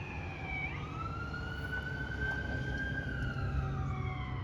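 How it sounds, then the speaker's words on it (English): An ambulance siren passes through a downtown street in Oakley, California, its wailing tone rising and falling loudly over steady low traffic rumble, with no talk. "Oh, sorry about the ambulance. Just came by."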